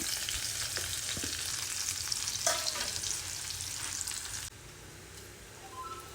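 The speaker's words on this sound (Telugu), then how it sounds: "ఉల్లిగడ్డలు వేగుతున్నాయి" Chopped onion fries in hot oil with mustard seeds and cumin, a steady crackling sizzle with occasional small pops and stirring scrapes, dropping to a quieter simmer toward the end.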